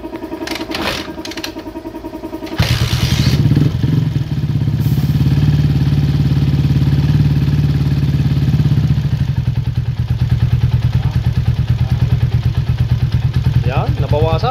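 Kawasaki TMX155 motorcycle engine idling steadily after a valve clearance adjustment, a close, loud, even running note with a faint rapid ticking, with clattering handling before it starts and a compressor noise in the workshop.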